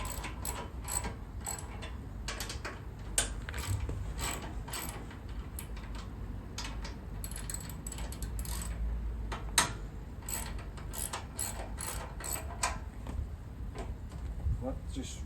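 Hopper nuts on a Forest Master FM8DD wood chipper being loosened, steady ratcheting clicks from a hand tool running throughout at close range, with someone talking at times.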